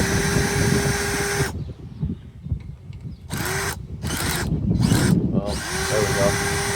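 A power drill spins a 1/4 inch socket to back bolts out of a Montgomery Ward rototiller, with several close, high whining bursts of starting and stopping and a person talking between them.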